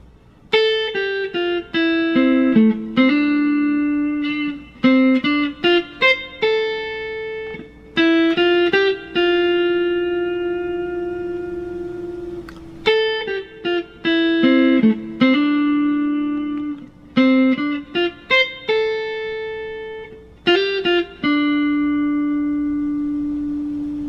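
An electric guitar plays the melody of Childish Gambino's 'Redbone' alone, clear single notes ringing with some effects and sustain, phrases repeating at a moderate pace.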